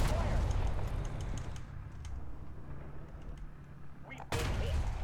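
Tank cannon fire in War Thunder from an M551 striking an IS-2: a loud, booming shot with rumbling low-end decay, then a second sharp blast near the end, set against constant battlefield din.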